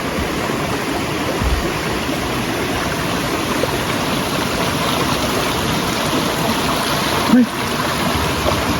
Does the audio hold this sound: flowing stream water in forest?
yes